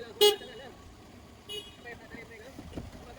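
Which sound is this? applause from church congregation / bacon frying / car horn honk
car horn honk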